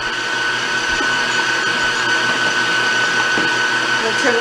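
An electric mixer whisks flour, baking powder, ginger and cloves for a carrot cake roll, giving a loud, steady whirring drone that runs unbroken throughout.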